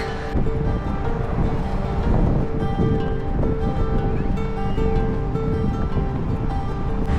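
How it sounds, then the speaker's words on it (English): Ocean waves wash against the shore right beside the recorder on a bright day, a steady, full roar of surf with wind buffeting the microphone and no speech. "by the ocean literally right next to me"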